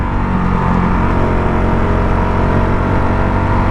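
Honda CRF450 dirt bike engine revving steadily while being ridden, a loud continuous mid-pitched engine drone with slight rises and dips throughout, close up and alone.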